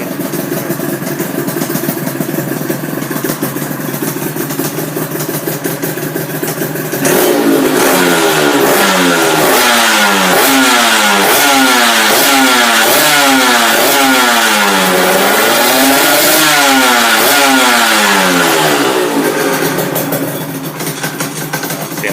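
A Honda NSR 250 R two-stroke motorcycle engine idles, then revs up and down repeatedly in rising and falling bursts, loud and close.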